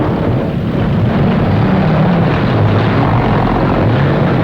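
Propeller airplane engines roar at an airfield during a Cold War–era airlift, a loud, close, continuous throb with a faint wavering pitch and some wind buffeting.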